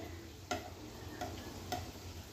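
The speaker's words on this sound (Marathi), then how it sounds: "आता हे मी शॅलो फ्राय करत आहे।" A steady, crackling sizzle of vadas shallow-frying in a pan, broken by a few sharp clicks spaced about half a second apart.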